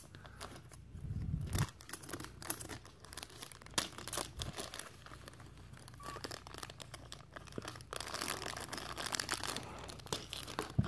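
Plastic blind-box packaging for a Minecraft figure crinkles and tears in bursts, with scissor snipping and rustling close by, louder near the end, and no voices.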